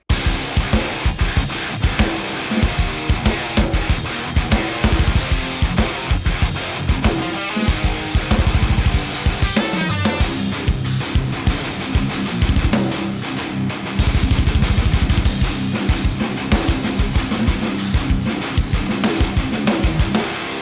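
Dual-tracked heavy metal guitars, an Ibanez with a 5150 and a PRS with a Triple Rectifier, pound out a dense riff over driving drums with punchy kicks and cymbals, loud and continuous for about twenty seconds, no voices.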